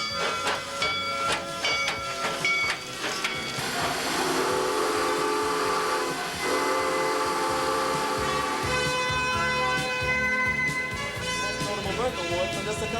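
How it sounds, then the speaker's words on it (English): Old-fashioned steam engine train on the Transvelt Railway at Busch Gardens, with steady hissing steam and a whistle-like tone running loud and continuous throughout under a busy mix. "one of the Transvelt Railway's old-fashioned steam engine trains"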